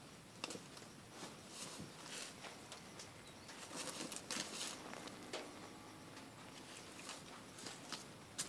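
Light rain beginning to fall on an overgrown grassy farm field gives a faint, scattered patter of drops, soft and irregular, with a few slightly sharper taps, and no voices.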